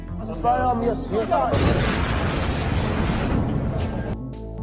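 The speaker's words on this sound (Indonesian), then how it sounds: "Semua mobil ketua gangster termasuk Simon, tiba-tiba saja meledak." A loud, sustained blast as several cars explode, rumbling for several seconds after a brief voice, a dense roar of booms fading toward the end.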